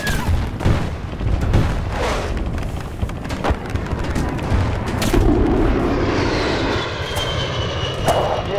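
Aircraft gun run in Battlefield Bad Company 2: loud, close rapid gunfire and heavy explosions over a roaring aircraft engine, with a rising engine whine near the end, no talk.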